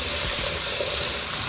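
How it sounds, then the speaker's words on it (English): Vegetables for Beijing beef sizzle steadily in a hot pan while being stir fried, a dense close crackle and hiss with light stirring scrapes. "we're just gonna stir fry these veggies."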